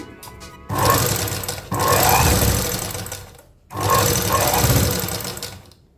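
A manual sewing machine fitted with an electric motor and foot pedal runs in two sustained bursts of fast whirring, humming stitching, loud and close, with a short pause between them and a slow wind-down at the end.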